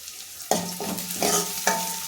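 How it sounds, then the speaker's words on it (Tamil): Onions and whole green chillies sizzle in a pan for a fish curry, with steady frying crackle broken by three distinct stirring scrapes from a spatula. "வெங்காயம் வதங்கிட்டு இருக்கும் போதே இப்போ நான் வந்து அதில் ஒரு பச்சை மிளகாய் ஆட் பண்ணிக்கிறேன்"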